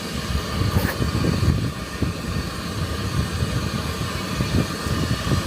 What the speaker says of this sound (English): Oh, it's a train coming.